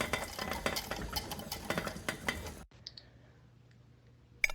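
A pot on a kitchen stove is stirred and handled with busy metallic scraping and clinks, then the clatter stops abruptly into near quiet with a few faint clicks and one sharp final tap.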